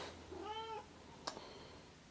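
A house cat gives a single clear meow, rising then falling, heard close and alone in a quiet room, followed by a faint click.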